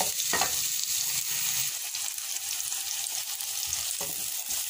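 Onions fry in oil in a pan for a chicken curry made with packet spice mix, giving a continuous bright sizzle with occasional stirring scrapes, close and alone.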